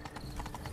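Hooves of a horse in The Witcher 3 clip-clop in a quick, short run of muffled thuds with a soft rumbling background, brief and fairly close.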